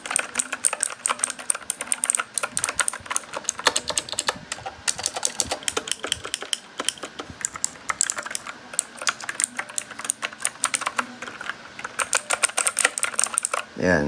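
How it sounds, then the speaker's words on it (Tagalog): Rapid clicky typing on a Rakk Lam-Ang Lite 60% keyboard fitted with tactile Ultimo blue switches, a dense close-up stream of sharp keystrokes with brief pauses, played alone without talk. "they are very clicky because they use the Ultimo blue switches, the tactile ones"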